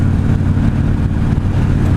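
A 2016 Victory High-Ball motorcycle engine pulls steadily on a test ride as the throttle rolls on, a loud, close, continuous mid-low drone with wind rush and no talk.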